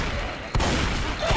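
Gunfire in the zombie shooter Left 4 Dead 2, a sharp loud burst cutting in partway through over a constant noisy game backdrop, with another shot rising at the end.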